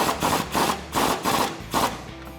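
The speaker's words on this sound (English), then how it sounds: "Grab your socket set, grab your 16 socket and tighten that down." Ratchet turning a 16 mm socket on a swivel to tighten a sway bar nut on a 2006-2018 Ram 1500 being fitted with a leveling kit: rapid clicking in about five repeated bursts, close and fairly loud, with no talk.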